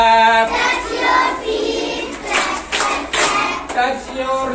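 Hand clapping in quick groups of three between spoken exercise directions, sharp taps rising over a talking voice.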